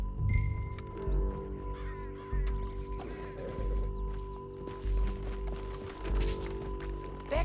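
Horse hooves clip-clop at a steady gallop while riding in Red Dead Redemption 2. The beats sound close and regular, under a low hum of game ambience.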